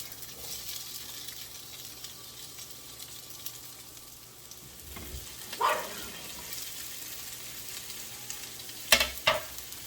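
Chopped onion and red pepper cooking in a pan, a soft, low sizzle continuing steadily in the background, with a few louder clatters and bumps toward the end and no talking.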